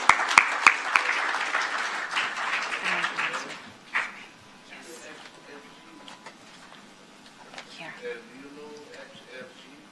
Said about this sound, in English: I would like to invite President Dino Waldino do Carmo da Silva on stage, President of the ANP. Please, an applause.